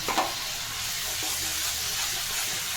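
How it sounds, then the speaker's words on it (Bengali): Spice paste with a little water frying and being stirred in a pan for a yam and prawn curry, a dense steady close sizzle with a spatula knock at the start, with no talking. "এই মশলাটা একটু ভাজা ভাজা হয়ে গেলে এর মধ্যে আমি দিয়ে দেবো।"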